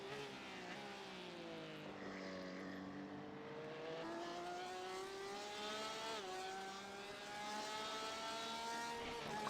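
GTE and GT3 race cars in a sim racing game roar through early turns, several high-revving engines overlapping with rising and falling pitch as they shift, steady and fairly loud with no talk.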